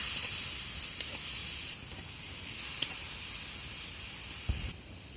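A spice masala of chili powder and turmeric with a splash of water sizzles in a pan as a steady, close hiss with a few faint ticks and clicks, and no voices.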